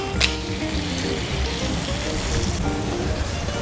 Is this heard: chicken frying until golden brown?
yes